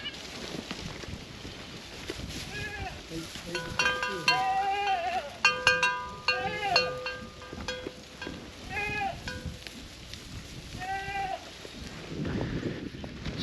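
Several goats bleat repeatedly around a hay feeder that has iced over on a freezing day, their calls overlapping at close range with intermittent pauses and light background noise.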